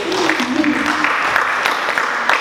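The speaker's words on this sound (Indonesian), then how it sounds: "Tepuk tangan untuk Ibu Dede" Applause from teachers at a numeracy workshop in an agricultural vocational school in Lembang, welcoming the woman leading the session; steady clapping throughout, with some voices mixed in.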